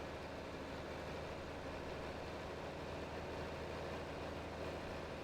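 Oliver tractor running straight pipes in Farming Simulator 22, its engine producing a continuous deep, raspy rumble at a constant level for several seconds, with no voices present.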